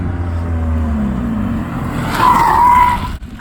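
A Mazda Miata does donuts, its engine droning low before the tires break into a loud, sustained squeal for about a second, then the sound cuts off sharply.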